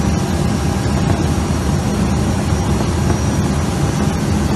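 Steady roar of an airliner's engines and airflow heard from inside the cockpit during a landing approach, a constant broadband rumble with no distinct touchdown thump.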